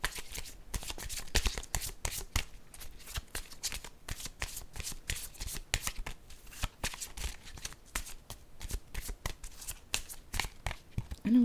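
A deck of cards is shuffled over and over in quick, crisp riffling bursts of dense, rapid flutters, heard close and clear with no talking.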